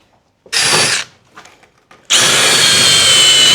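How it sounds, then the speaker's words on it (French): A power drill fitted with a wire brush whirs loudly while stripping a surface during a restoration, one short burst, a pause with faint handling noises, then a sustained run. "On va prendre la perceuse avec la brousse."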